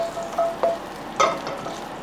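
Garlic sizzles in a hot pan for a steady crackling hiss, broken by a few sharp spattering pops close by, with no voices.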